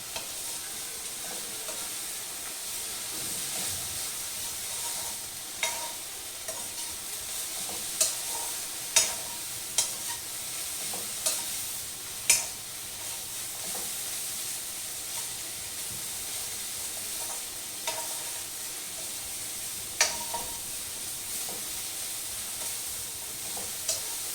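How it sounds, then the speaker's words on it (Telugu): Amaranth leaves frying in a pan while being stirred, a continuous hissing sizzle broken by repeated spatula scrapes and clicks against the pan, close and moderately loud, with no voices. "జస్ట్ కొంచెంగా వేగితే చాలుట తోటకూరను ఇది కూడా"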